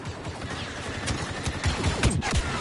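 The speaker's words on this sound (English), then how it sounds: "Ooh, we're getting bombed." Explosions from bombing in Star Wars Battlefront 2, a rapid barrage of sharp blasts and booms crackling close together over a couple of seconds, no talk.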